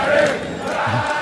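Crowd at a live concert, a brief loud burst of massed cheering and shouting heard close and full, with a faint voice underneath.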